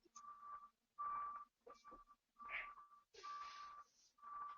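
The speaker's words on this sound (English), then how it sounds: "Apologize for the beeping. It's right outside my window here." Beeping from outside a window: a steady series of evenly spaced electronic beeps, faint and distant, with muffled room noise between the pulses.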